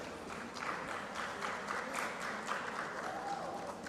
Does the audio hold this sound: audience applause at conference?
yes